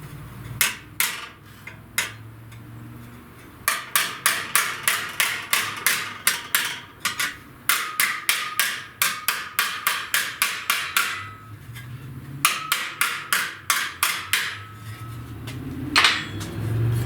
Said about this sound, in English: I'm going to roll it with a hammer, because I got to get a pretty good little roll.